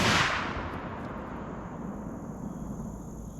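A single gunshot fired at an outdoor shooting range toward a cabbage target: a sharp, loud close blast with a long rumbling decay that fades through the rest of the moment.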